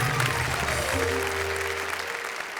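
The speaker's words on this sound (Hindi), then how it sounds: "भाई जोरदार तालियों से स्वागत करें" A comedy-poetry TV show's studio audience gives a hearty round of clapping, a steady crackle of many hands with low voices or tones underneath at first, tapering slightly toward the end.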